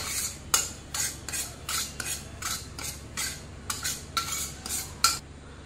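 Roasted semolina is scraped out of a pan onto ragi flour with a spoon, making about ten rhythmic rasping strokes, close and steady, with a faint kitchen hum underneath and no speech.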